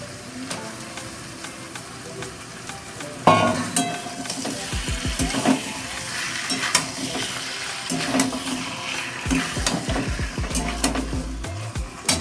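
Chicken liver and gizzard dropped into hot spiced oil, a close, steady sizzle with a sudden louder burst when the pieces go in, then scraping and clattering of stirring throughout.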